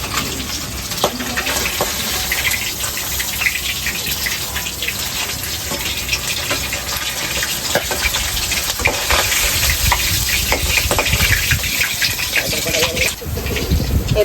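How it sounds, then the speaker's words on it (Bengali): Kan magur fish fry in hot oil, a loud, steady, crackling sizzle that runs unbroken throughout with bursts of spattering. "লাল লাল করে মাছটা ভেজে নিলাম।"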